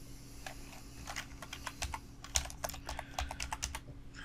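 Typing on a computer keyboard while entering text for a website page builder, a quick run of close, crisp key clicks in an uneven rhythm with a steady low hum underneath.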